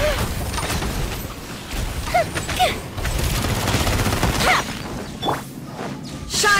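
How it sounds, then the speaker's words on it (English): Firework skill effects crackle and pop in a dense, rapid burst of bangs in the video game Genshin Impact, mixed with game sounds and brief voiced exclamations. "Here come the fireworks!"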